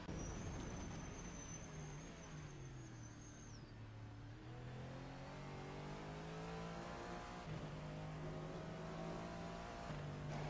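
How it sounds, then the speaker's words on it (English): A race car engine drones and revs while a thin, high-pitched brake squeal whines over it for several seconds, fairly faint and distant. "Brakes are squealing."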